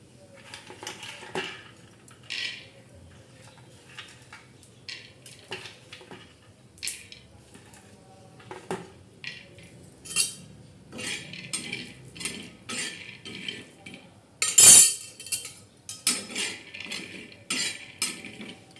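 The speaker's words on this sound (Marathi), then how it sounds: "आता आपण शेंगदाणे भाजणार आहोत" Peanuts roast in a pan while a metal utensil stirs them, making irregular light clinks and scrapes scattered throughout, with one sharper clatter near the end. The sounds stay quiet and close, with no talk.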